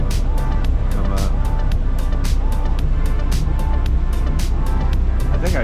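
A loud truck engine runs inside the cab of a working rig while a skillet heats up, making a dense, steady rumble with sharp ticks recurring at a quick, regular pace throughout.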